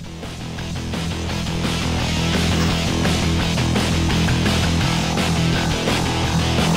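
Dense outro music track plays steadily, rising gently in level over the first couple of seconds and then holding loud and even, with a steady pulsing beat and no voices.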